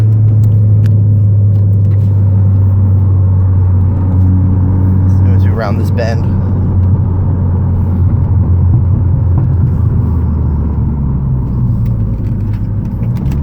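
A 2011 Mini Cooper R56 engine with a Stage 2 tune revs hard as it accelerates from a roll, with a faint turbo whine rising over the steady cabin rumble while someone talks.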